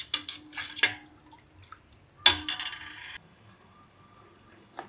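A metal cooking vessel is picked up and set down, a few close clanks and clinks with two sharp ringing knocks, then quiet.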